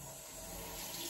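Cold water runs steadily from a tap into a sink for washing the face, a faint continuous splashing stream with no voices.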